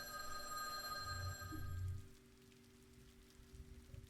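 A telephone rings in the visual novel Witch on the Holy Night, a bright, steady electronic trill over a patter of rain that cuts off after about two seconds.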